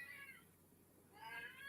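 A cat meows in a couple of faint, drawn-out calls, one at the start and one near the end, separated by a quiet pause in a still indoor room.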